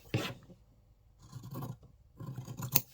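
Sharp sewing scissors snip through fabric corners while a notions tray is made, giving a few brief, close crisp cuts separated by short pauses.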